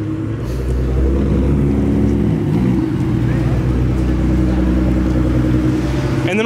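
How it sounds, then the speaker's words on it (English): A matte blue Nissan GT-R rolls in at a supercar show, its deep engine rumble held close and steady with a slight rise in revs, amid background crowd noise. "So we got the matte blue Nissan GTR rolling in."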